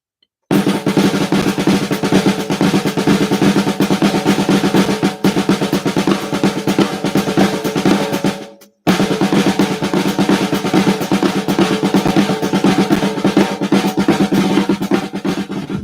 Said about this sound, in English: I've been trying to develop a whole bunch of flam vocabulary